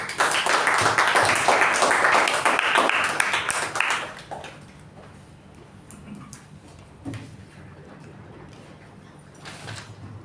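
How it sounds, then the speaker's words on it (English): An audience at a Toastmasters club meeting claps warmly for about four seconds, then the applause dies away into a quiet room with a few faint knocks and rustles. "With a huge round of applause, please welcome Toastmaster Latha on the stage."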